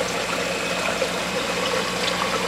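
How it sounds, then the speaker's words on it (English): Steady low trickle and churn of water from a protein skimmer in a reef aquarium, a constant faint bubbling wash with no talk. "the only water movement I really have is coming from my protein skimmer down there"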